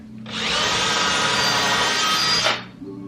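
A single drill bit grinding steadily into wood for about two seconds, loud and close, then spinning down abruptly.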